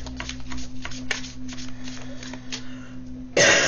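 Playing cards are shuffled with soft repeated riffles over a low steady hum, ending in a louder burst of rustle.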